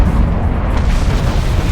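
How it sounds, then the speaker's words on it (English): A spaceship blowing up in the space strategy game Sins of a Solar Empire, a loud rumbling boom with heavy low-end rolling through the whole stretch. "Also, I like the sparks that fly out. Yeah, it's just kind of a cool explosion."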